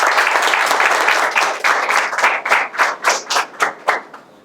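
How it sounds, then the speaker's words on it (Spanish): A crowd at a Children's Day event in Honduras claps to welcome a parents' representative, loud dense applause that thins into a few slower rhythmic bursts before fading out. "La recibimos con un fuerte aplauso."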